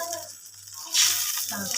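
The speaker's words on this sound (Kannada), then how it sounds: "ಈರುಳ್ಳಿ ಬೆಂದೈತಿರೋ ನೀರು ಹಾಕ್ಕೊಳ್ತಾ ಇದ್ದೀನಿ." Water is poured into a pan of cooked onions for village-style upma, a brief splashing rush after a moment of faint voice.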